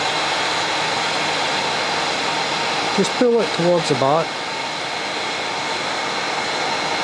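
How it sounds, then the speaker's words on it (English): A hair dryer blows a steady, loud airflow onto deer-hair fibres while tying a Nobby Hopper fly, running continuously with a brief spoken remark partway through. "The best way to do it is to actually use the hairdryer."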